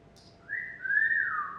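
A single long whistle that rises and then glides down, clear and moderately close, with no talking around it.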